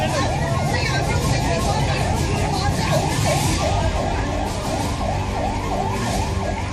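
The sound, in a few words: ambulance siren on Kathmandu streets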